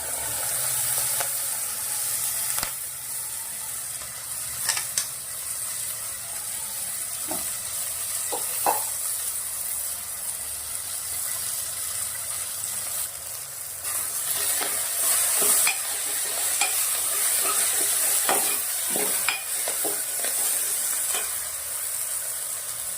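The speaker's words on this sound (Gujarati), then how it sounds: "આ તો આપણે ડુંગળી થોડી વાર તેલના અંદર સંતરાવા દેવાની છે." Green onion with garlic, ginger and red chili pieces sautés in hot oil, giving a continuous close sizzle with intermittent stirring scrapes and clinks of the spoon against the pan, no voices.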